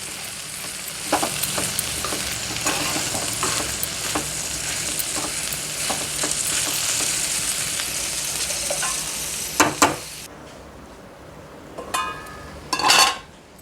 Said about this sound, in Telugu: ఇక ఇది బాగా కొంచెం ఆయిల్ పైకి వచ్చే వరకు చిన్న సిమ్లో ఉడకనియాలి బాగా